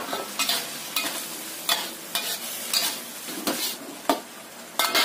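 Food stir-fried in a pan with a little sesame oil while making Indonesian fried snacks: repeated scraping and stirring strokes over a steady close sizzle, with no talking.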